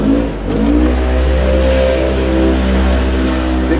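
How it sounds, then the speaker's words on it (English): A big Can-Am four-seater side-by-side drives past on a road, its engine a steady mid-pitched drone that swells and revs slightly as it goes by, loud and continuous with no talking. "There's a Can-Am coming down the road."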